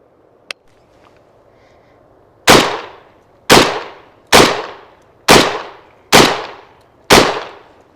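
A MAC 1014 shotgun fires Federal low brass number 4 buckshot at a range, six loud booming shots spaced about a second apart with echoing decay, preceded by a sharp click.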